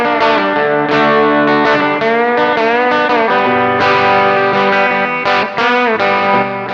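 Electric guitar through a Joyo American Sound amp-sim pedal set for a touch of overdrive, loud strummed chords and ringing notes with slight grit and chorus-like shimmer, played alone with no talking.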